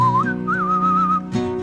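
A clear melodic whistle carries a tune over a sustained backing chord in a song, close and prominent, gliding between notes before a brief pause and a new chord.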